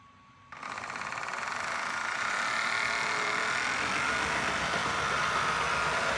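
A Tyco Super 630 model train with printed bushings starts running, its motor rising from quiet to a steady, continuous whirring hum that holds at an even level throughout, with no talking.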